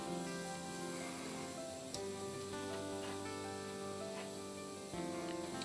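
Vallejo rust effect paint sprays from an airbrush fed straight from the bottle, a steady close hiss running throughout with a brief break near two seconds and a slight change near five.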